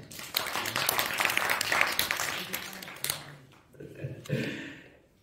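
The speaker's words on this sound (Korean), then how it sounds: "박수 주세요" An audience at a Buddhist dharma talk bursts into sustained applause for about three seconds, dense and steady, then thins into a few scattered claps as a voice speaks over the tail.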